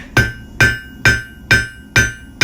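A hammer forges a hot steel bar, lengthening a taper with six evenly spaced, loud ringing blows close by, each note decaying before the next strike.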